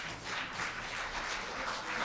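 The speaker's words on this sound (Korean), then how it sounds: "새로운 신임 임원에게 격려의 박수를 부탁드리고요" Audience at a cooperative's annual delegates' general meeting claps to welcome four newly elected board members, a steady, fairly quiet wash of hand claps across the room with no talking.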